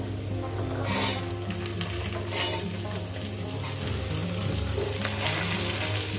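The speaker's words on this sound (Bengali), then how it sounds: "ডাটাগুলো দিয়ে ভাজবো আমি" Drumstick stalks (sajne data) frying in oil make a continuous near sizzle with light stirring scrapes and a couple of brief louder bursts, heard alone without talk.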